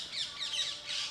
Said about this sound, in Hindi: चिड़िया के चहचहाने की आवाज़ें आ रही हैं।